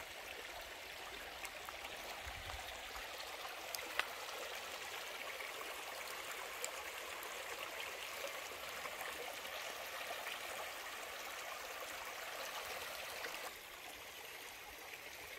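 A clear forest stream in Nisene Marks State Park flows steadily, giving a continuous close wash of rushing and trickling water with no voices over it.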